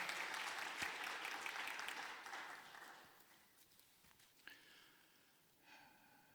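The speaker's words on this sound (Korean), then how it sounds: "다 같이 우리 박수로 격려하겠습니다" A church congregation at a Wednesday worship service claps in encouragement after a hymn. The applause is fairly loud at first, then thins and fades over a few seconds, ending with a few scattered claps.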